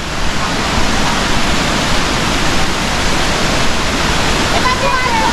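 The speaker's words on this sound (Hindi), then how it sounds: "वो पहाड़ी के ऊपर से वाटरफॉल गिर रहा है" A waterfall tumbles from a hilltop near Sarahan in the Himalayan hills, producing a loud, steady broadband roar that fills the scene without pause.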